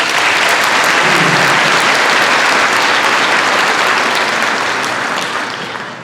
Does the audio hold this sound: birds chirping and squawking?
no